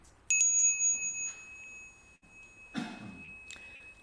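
A single bright bell strike before a Buddhist chant rings out and decays slowly with a clear sustained tone, followed by a brief cough or throat clearing nearby.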